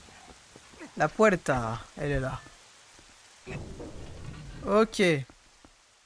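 Rain in the video game Zelda Twilight Princess, a soft steady hiss running beneath someone speaking in French and Spanish.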